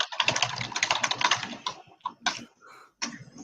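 Typing on a computer keyboard, a quick burst of dense key clicks followed by a few sparser taps with short pauses, close and fairly clear with no talking.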